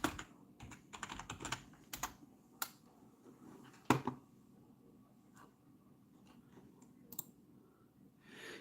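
Computer keyboard typing in bursts of clicks and key taps, strongest in the first four seconds, then sparser isolated presses, fairly close and moderately quiet, with no talking.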